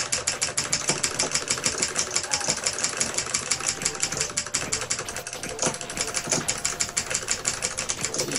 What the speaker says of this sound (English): next door seems to be drilling